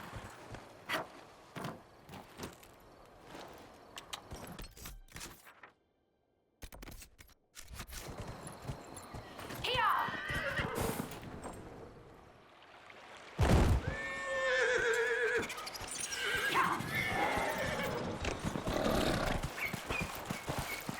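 Horse neighing in Dragon Age: Inquisition, several whinnies and snorts rising over game ambience and hoof clops, with a short silent gap early and a louder burst of neighing in the second half; no talk.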